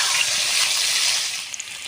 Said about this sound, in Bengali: সুন্দর করে লাল লাল করে আলুগুলো ভেজে নেব